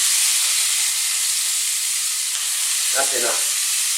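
Chicken fajita mixture sizzles in a very hot pan over high heat, a loud continuous frying hiss that runs unbroken, with a brief spoken phrase near the end.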